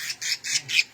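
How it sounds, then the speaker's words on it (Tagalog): A bird squawks in four close, harsh, fairly loud cries in quick succession, heard alone. "Oy, naiyak ang ibon, naiyak."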